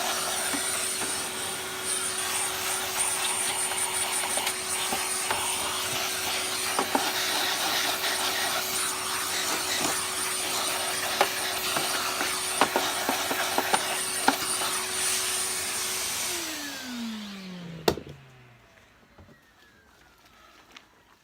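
A Hoover Junior Deluxe U2068 upright vacuum cleaner runs at a steady, loud motor whine with a constant tonal hum and scattered rattles and clicks. After about 18 seconds it switches off, and the pitch falls away as the motor spins down to near silence.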